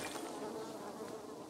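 Bees buzz at a beehive in the video game Dying Light 2, a steady soft droning hum that stays constant and fairly faint throughout.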